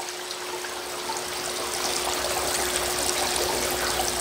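Water streams and trickles steadily through a miniature gold sluice, a continuous close wash that grows slightly louder partway through, with a faint steady hum underneath.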